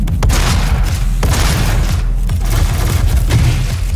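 Gunfire in the video game Doom (2016): loud, dense booming bursts with repeated sharp blasts over a heavy low-end roar.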